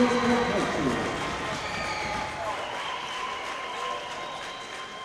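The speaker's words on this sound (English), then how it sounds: "let's give a big round of applause for the Eagles from International Leadership of Texas, Katy West Park." Crowd applause in a gym greets a boys' charter school basketball team being introduced at a state semifinal, steady clapping and cheering filling the room, with some murmur and shuffling underneath.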